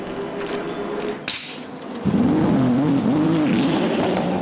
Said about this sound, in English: the number 6 Porsche, Matt Campbell, and Antonio Fuoco in a 50 Ferrari